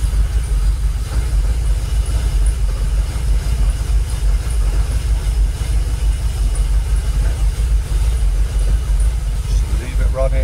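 A Jaguar XKR engine idling at steady low revs, a continuous deep rumble close to the car with no throttle input, while someone talks over it.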